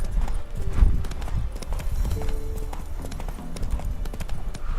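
Roach, the horse in the video game The Witcher 3, gallops with continuous rhythmic clip-clopping hooves, mixed with in-game ambience and a brief whinny-like tone, filling the whole stretch without pause.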